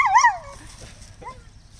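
A dog gives a loud yelping bark followed by whining whimpers, with a fainter whimper near the end, heard outdoors during tree felling of a pine.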